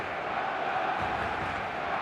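Stadium crowd in eFootball, a steady roar of many voices filling the air, dense and unbroken for the whole stretch, with a faint chant-like swell in the middle.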